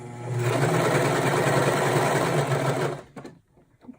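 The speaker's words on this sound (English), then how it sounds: "you're trying to move forward and you're sewing over the same place" A sewing machine runs steadily for about three seconds, stitching a car trash bag, with a close, even mechanical whir that stops abruptly, followed by a few faint handling clicks.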